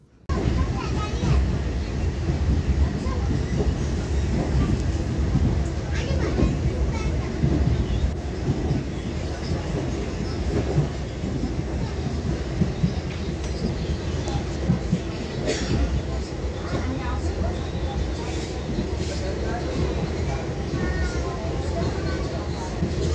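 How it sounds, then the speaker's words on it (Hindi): Passenger train running along an old British-era railway line in India, a steady continuous rumble of wheels and carriages throughout, heard from inside the coach with faint rattling clicks and occasional background voices. "ट्रेन में मैं बैठी हूँ ये अंग्रेज़ों के ज़माने की रेलवे लाइन है"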